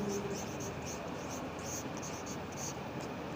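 A marker writes on a board in steady, quick strokes, each giving a soft squeaky rasp, with a constant low hiss underneath.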